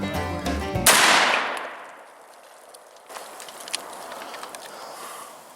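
A gun fires once at a target at a camp in the Oregon Coast Range, a sharp, loud single blast that rings out and decays over a couple of seconds, followed by faint rustling and light knocks.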